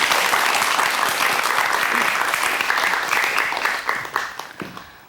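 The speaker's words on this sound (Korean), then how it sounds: "그럼 박수로 이야기 청해드리겠습니다." Studio audience applause on a Korean KBS culture program's storytelling club, greeting a parody performance of princess fairy tales: a broad, loud wash of clapping that holds steady, then thins into scattered claps as it fades near the end.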